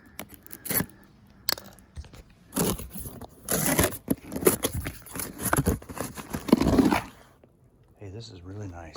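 A cardboard box holding a three-person pop-up hunting blind is sliced open, with tearing, scraping and rustling bursts that come close and irregular, and a little noise continues at the end.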